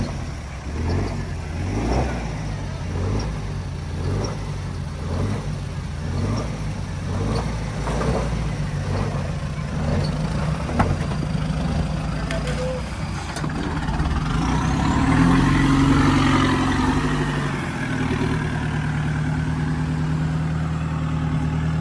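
A Mahindra Thar's engine drones steadily as the vehicle is driven up, with a throbbing, regular pulse that later swells into a louder, rougher surge, heard close and without speech.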